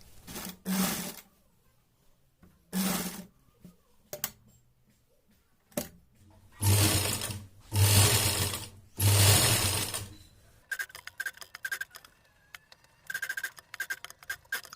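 A sewing machine stitching a fabric collar right along the edge of buckram, running in several short bursts with pauses between, loud and close, then lighter ticking mechanical clicks at the end.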